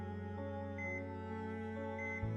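A sustained electronic beeping tone from a video game, steady with slight pitch shifts, no talking.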